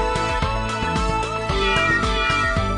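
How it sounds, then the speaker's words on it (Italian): A video game cat meows several times in quick succession, loud and close, over a steady rhythmic game background. "anzi no, il mio gatto preferito, Kraia."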